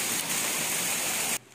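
Steady rain falls outside as a dense, even hiss that fills the space, then cuts off abruptly near the end.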